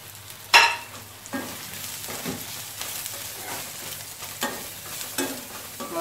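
Masala spices sauté in hot oil in a pan for mushroom chukka varuval. A spoon scrapes and stirs in short repeated strokes over a soft, continuous sizzle, close by, with one sharp clank near the start.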